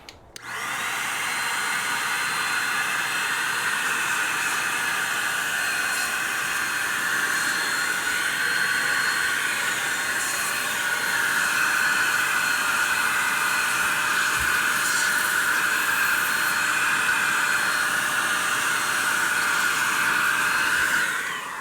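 A Metro DataVac electric duster blows dust out of a computer, giving a steady, loud, high-pitched whine and airy hiss that runs continuously after a quick spin-up, with no talking.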